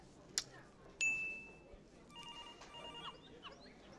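A quiet room with faint chatter, then a sharp electronic chime and a brief trilling ring, like a phone going off at a low volume.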